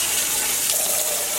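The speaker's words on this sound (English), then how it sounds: "So I'm going to keep rinsing so the water runs clear." Tap water runs steadily while dyed yarn is rinsed in a sink, a continuous close hiss and splash with no pauses and no voices.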